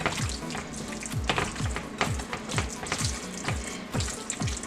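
Raw chicken being mixed by hand with seasoning for chicken picante, a wet squelching, slapping rhythm of repeated strokes close up, steady throughout with no talking.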